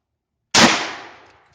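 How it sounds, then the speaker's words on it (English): A single sharp, loud shot from an M1 carbine firing a 110 grain full metal jacket round at a helmet about 15 yards away, with a brief ringing decay afterward. "We've got the M1 carbine, 110 grain, full metal jacket at about 15 yards, not very far."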